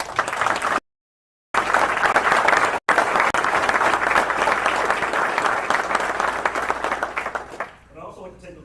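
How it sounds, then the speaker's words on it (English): Applause from the crowd at a Navy change of command ceremony at Naval Station Norfolk, broad sustained clapping after short dropouts early on, fading as a speaker's voice resumes at the end. "I'd like to give you a round of applause"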